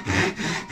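A single stroke of the fine-toothed side of a Ryoba Japanese pull saw through wood, a close, smooth rasping swish under light pressure.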